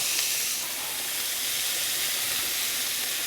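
Onions sizzle in about a tablespoon of butter in a hot pan on medium heat, a steady, close, even hiss that carries on alone without any talk.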